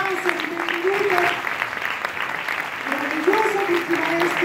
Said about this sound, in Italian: a quale vogliamo tributare un applauso di benvenuto